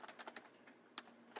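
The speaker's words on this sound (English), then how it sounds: "So I'm going to type it out here" Quick, light keystrokes on a computer keyboard, typed close up in irregular bursts and alone with no talk, fading into a short pause before a few final taps.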